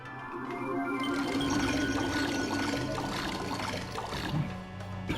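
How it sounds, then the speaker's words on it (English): Water drains out of a room in the video game Okami HD, a continuous rushing, pouring wash that swells quickly and then holds steady, with faint gurgling and no talk. "So all that water that was in the main room now has emptied out."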